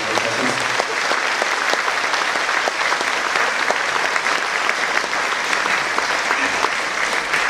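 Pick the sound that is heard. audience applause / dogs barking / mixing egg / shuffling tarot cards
audience applause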